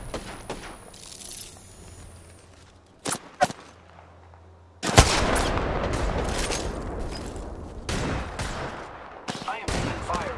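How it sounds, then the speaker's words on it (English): Gunfire in the battle royale game Apex Legends: a few sharp isolated shots, then from about five seconds a dense sustained burst of rapid automatic fire with scattered louder cracks, fairly close and loud. "I am taking fire, friends."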